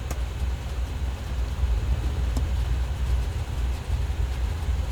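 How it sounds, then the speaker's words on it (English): A second aircraft engine spools up in the X-Plane 11 flight simulator during a cargo flight, a steady low rumbling drone that holds constant and loud, with no talking. "And let's get the other engine going."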